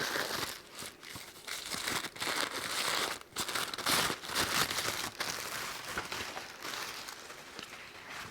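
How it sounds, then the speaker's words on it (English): Tissue paper crinkles and rustles as a creatively packaged gift is unwrapped, in a close, continuous run of papery crackles and tears. "A little tissue paper here."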